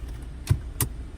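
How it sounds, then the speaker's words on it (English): Two quick mechanical clicks a fraction of a second apart as the parking brake is released inside a 2023 Jeep Wrangler Sahara, close and fairly faint over a quiet cabin hum. "I'm gonna disengage the parking brake."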